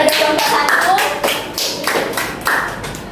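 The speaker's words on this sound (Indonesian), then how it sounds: "Beri tepuk tangan pada kelompok 1." A classroom of students gives group 1 a round of applause, a burst of dense clapping that thins into scattered claps over about three seconds.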